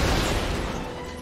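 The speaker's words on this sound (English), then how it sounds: "that is one hell of an explosion" A big explosion from the Captain America film fills the short clip with a dense, loud, broadband roar that fades slightly toward the end.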